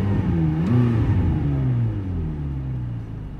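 Deep, throaty McLaren MP4-12C sports car engine rumbling at idle with a slight rev blip early on, close and loud, no talking.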